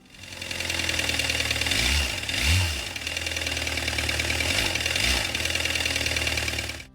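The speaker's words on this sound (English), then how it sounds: "this 2013 Volkswagen Jetta TDI came in because it sounded louder than normal and the oil light was on" A 2013 Volkswagen Jetta TDI diesel engine runs loud and steady with a rough, knocking clatter, with a few deeper low swells as it idles and revs slightly, close up with no talking.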